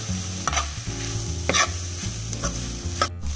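A spoon stirs masala, onions and squid in a hot frying pan for a spicy Indian squid fry, giving repeated close scraping strokes over a steady sizzle, with no one talking.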